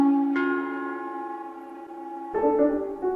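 Ancient Chinese bronze bells struck twice, each a clear, sustained metallic tone with long ringing overtones, the second strike entering after a lingering decay.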